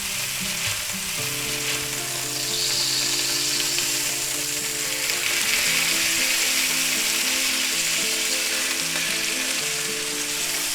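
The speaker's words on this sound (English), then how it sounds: "Now we're going to go ahead and sear those for about 2 minutes per side" Pork chops searing in a hot pan make a continuous loud sizzle and crackle, close and steady, joined by faint clinks and scrapes with no voices.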